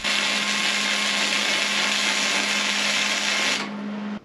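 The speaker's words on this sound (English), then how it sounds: "I'm only welding a couple inch at a time in different areas" A Hobart 210MVP MIG welder laying a short bead while building a workbench from scrap, a loud, steady, close crackling buzz with a constant hum that cuts off after about three and a half seconds.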